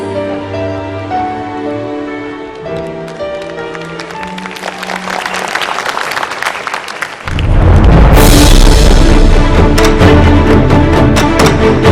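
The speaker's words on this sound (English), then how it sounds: "Now, please a big round of applause to welcome our champions." Arena crowd at a world wushu championships evening session applauds to welcome the champions, clapping swelling over playing music and then breaking into a loud, broad wash of cheering applause.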